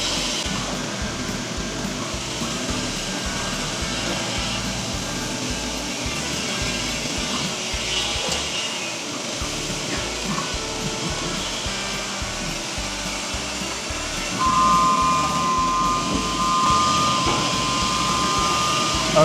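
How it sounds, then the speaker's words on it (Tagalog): CNC cutting machine running as it cuts a grill design, a loud continuous whirring drone with a rhythmic low pulsing throughout and a thin high whine joining near the end. "Poporma lang natin yung ating cutting machine"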